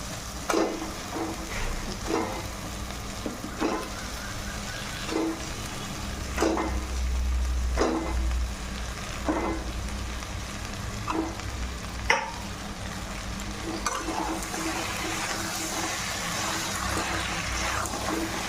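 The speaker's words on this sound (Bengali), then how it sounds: "এইভাবে দিয়ে একটু মশলার সঙ্গে ভাজি নিতে হবে" Goat trotters frying in a pan with spice paste, a steady close sizzle with periodic stirring scrapes and clicks throughout, no voices.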